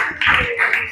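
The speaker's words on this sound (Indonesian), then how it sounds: "Tepuk tangan dulu." Brief burst of applause from a classroom audience at a teacher performance assessment, a short close patter of clapping hands lasting under a second.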